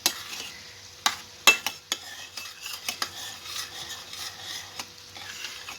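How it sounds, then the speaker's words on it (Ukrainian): Onion and chicken liver sizzling in a hot frying pan, with sharp clicks and scrapes from a utensil stirring, close up and steady. "цибуля з печінкою має обсмажитися десь хвилиночок також ж 5"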